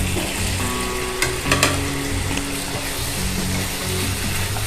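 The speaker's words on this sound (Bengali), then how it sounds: "এবার আলুটাকে দিয়ে ভালো করে কষিয়ে নেব।" Fried potatoes sizzle loudly as they are stirred into cooked spice masala for aloo dum, a continuous frying crackle broken by a couple of sharp spatula scrapes and knocks against the pan.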